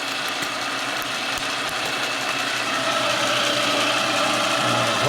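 Kwik-Way boring machine cutting an offset Harley shovelhead cylinder on a 1978 engine, a steady high whirring drone with faint irregular ticks from the uneven bore, close and continuous with no talk.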